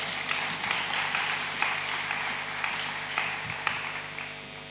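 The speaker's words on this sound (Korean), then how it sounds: "박수 쳐주네요." A church congregation in Sydney claps in welcome as a pastor comes up to preach, giving an even, sustained patter of applause that fills the room at moderate loudness, with a few sharper individual claps standing out.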